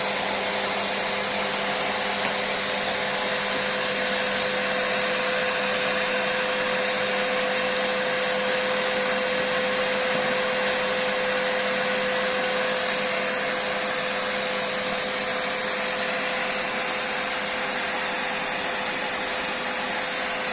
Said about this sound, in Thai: ถ้าผลไม้เยอะๆ พวกเราก็จะใช้เครื่องดูดเอานะคะ